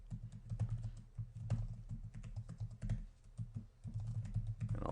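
Fast typing on a computer keyboard while entering Cisco switch commands, with steady light key clicks in quick irregular bursts, close and fairly quiet, and no voices.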